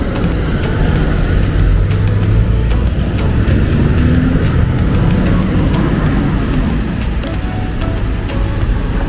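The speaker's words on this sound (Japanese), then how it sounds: "車が渋滞しています。" Heavy Saturday-midday traffic jam on a street near the Teruya intersection in Okinawa City, idling and creeping cars forming a dense, continuous engine rumble close by, with occasional revving.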